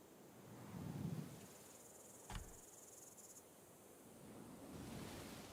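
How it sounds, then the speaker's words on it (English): Cicadas and frogs by the water in the dinosaur park game Jurassic World Evolution 2: a faint, steady high insect buzz over soft wave-like wash, with one brief low thump partway through. "There are frogs and stuff on the water, and all these cicadas."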